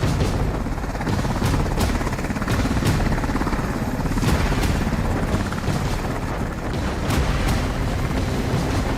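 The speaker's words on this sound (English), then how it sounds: "the light combat helicopter is in" A light combat helicopter flying in an air display thunders loudly and steadily, its rotor chop pulsing throughout with a dense, roaring low rumble.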